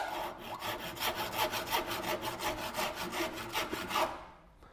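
A hand saw cuts into wood for a round tenon, a close series of rhythmic rasping strokes, roughly a dozen back-and-forth pulls in steady tempo, then stopping.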